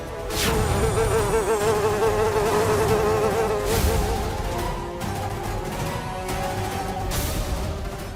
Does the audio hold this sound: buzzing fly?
yes